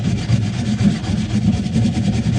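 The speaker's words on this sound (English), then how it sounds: "now we're going to grab our brush, and this is a stiff bristled nylon brush." A stiff-bristled nylon brush scrubbing wax off a ski base, loud close rapid back-and-forth scratchy strokes in an even, continuous rhythm.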